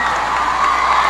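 An arena crowd at the 2008 Grand Prix Final roars and cheers for figure skater Yuna Kim, a loud, dense wall of voices sustained through the whole brief moment.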